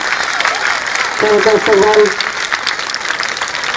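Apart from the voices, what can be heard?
loud audience applause at school teacher day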